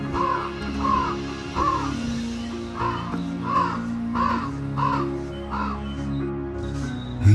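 A crow caws about eight times at a steady, evenly spaced rhythm, each call harsh and fairly close, over a low continuous background hum.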